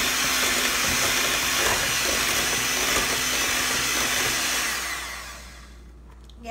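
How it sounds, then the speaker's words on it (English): Handheld blender whirring loudly through gluten-free, casein-free, nut-free pound cake batter in a bowl, a steady close motor roar that winds down and stops near the end. "you can even use a hand blender, it's even easier"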